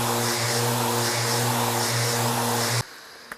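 Steady, loud whir of a power sander working 600 grit paper across a river table, a continuous droning hum that cuts off abruptly near the end, followed by a faint knock.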